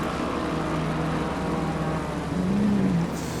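A GT3 race car lapping the Nürburgring in a racing video game, its engine droning steadily with a brief rising pitch near the end as it brakes and shifts, close and continuous with no talk.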